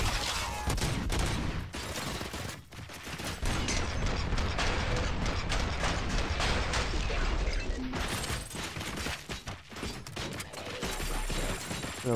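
Mechanical clicks and ratcheting from a gun being reloaded in the Robocop: Rogue City video game ride over bursts of rapid gunfire and crashes in a dense, loud action mix.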